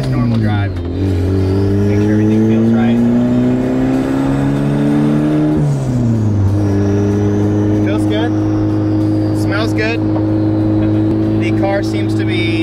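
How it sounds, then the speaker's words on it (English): A turbocharged Honda Civic with a cheap eBay turbo drives gently, its engine droning loudly and climbing in pitch under acceleration, dropping at a gear change midway, then pulling up again. "Let's just do a short drive, just normal drive."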